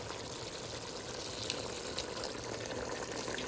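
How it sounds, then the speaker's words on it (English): Boiling water poured into a cooking pot, a steady broadband rush of liquid running continuously and fairly loud with no talk over it. "I am now going to add boiling water to this"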